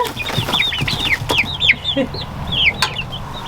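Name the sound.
chickens clucking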